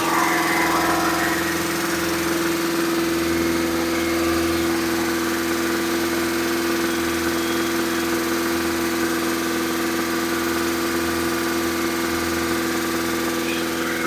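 An engine runs steadily at its first start-up with a continuous droning hum, loud and close, with no let-up throughout.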